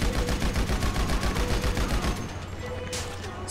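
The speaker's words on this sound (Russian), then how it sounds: "Я вот сейчас по людям стреляю внизу." Rapid machine-gun fire rains down on people below in GTA Online: a loud, continuous automatic burst that runs for about two seconds and then cuts off, leaving a low background rumble.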